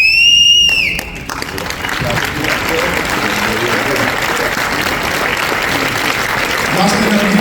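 Audience at a biker event applauding steadily and fairly loud, a sustained wash of clapping with a brief whistle at the start and crowd noise throughout.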